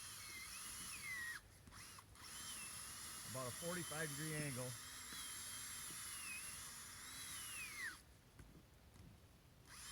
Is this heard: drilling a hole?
yes